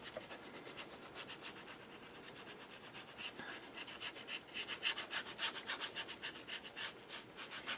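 Designer paper being folded over by a half inch and creased by hand, a steady close rubbing and scraping friction that swells and eases in repeated strokes, with no talking.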